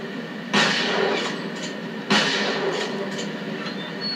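Two loud, booming rifle shots from the Far West rifle in The Last of Us online multiplayer, about one and a half seconds apart, each with a trailing echo over steady game ambience.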